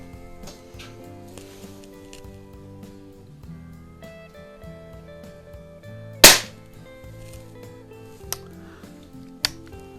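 Daisy model 62 underlever spring air target pistol firing a pellet: one sharp, close crack stands out from quiet background music, followed by two small faint clicks later.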